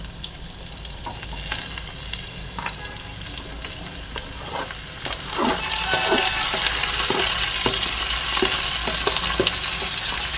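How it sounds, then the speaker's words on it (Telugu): Onions and potatoes frying in a pan, a constant hiss of hot oil that grows a little louder midway, punctuated by repeated clacks and scrapes of a stirring spoon, close by and without talk. "ఆనియన్స్ ఇలా వేగిన తర్వాత ఇందులో ఆలుగడ్డలు యాడ్ చేసుకుంటున్నాను"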